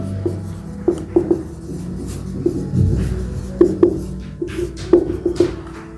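Chalk or marker scratches and taps across a board during a maths lesson, irregular close strokes and dots over a low steady room hum, with no voice.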